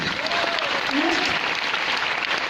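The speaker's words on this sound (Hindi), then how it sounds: "जोरदार ताली होना चाहिए" Applause from an audience at a motivational training session, dense clapping throughout while a voice carries on over it.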